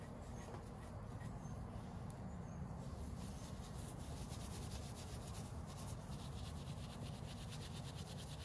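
Steel wool scrubs rust off a knife blade in a continuous, close, gritty rubbing that stays steady and fairly quiet throughout.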